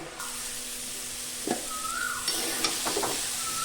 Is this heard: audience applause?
no